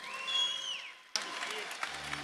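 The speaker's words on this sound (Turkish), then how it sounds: "Kocaman alkışlarla." After a tonal musical swell fades, a burst of crowd clapping starts abruptly and continues steadily, dense and fairly close.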